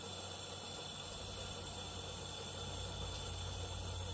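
Water boils inside a kettle on a Coleman camp stove, giving a steady, even hiss and soft rumble with no whistle, continuous and fairly faint throughout.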